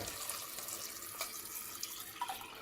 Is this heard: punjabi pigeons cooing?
no